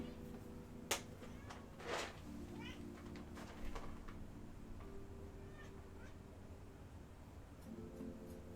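Several Minecraft cats meow in short, scattered calls over a low droning game background, faint and intermittent, with some quiet sounds in between.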